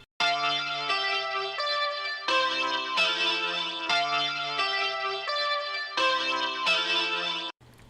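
Arcade melody sample made in FL Studio, a bright, heavily effected synth line with distortion, chorus and echo, stepping through sustained notes in a steady repeating phrase, loud and continuous, alone with no voices.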